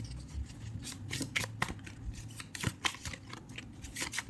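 Guidance cards handled and drawn from a deck, a series of quiet close riffling, sliding and tapping sounds at an irregular pace, with no speech.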